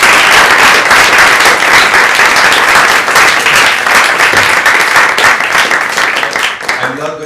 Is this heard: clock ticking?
no